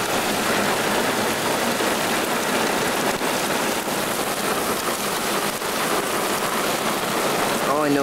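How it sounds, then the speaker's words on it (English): Heavy rain pours hard and steadily onto a storm-chasing car in a Southern California thunderstorm, a dense, loud, unbroken roar of drumming water that holds at full strength throughout. "All I know is it's just raining like hell."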